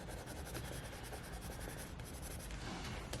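Coloured pencil being worked back and forth on paper while blending, a steady close scratchy rubbing that continues without a break and with no voices.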